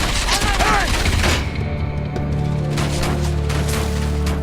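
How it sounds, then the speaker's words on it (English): Rapid bursts of mech gunfire rattle loudly up close in the video game Enslaved: Odyssey to the West, then fade into a low, steady mechanical hum with scattered distant booms. "If there's mechs with gunfire"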